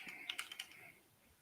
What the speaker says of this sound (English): and I'm typing in my passkey.